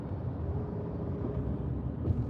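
Inside a Toyota Corolla rolling over a bumpy street, a constant low cabin rumble with a soft thump near the end, no talking.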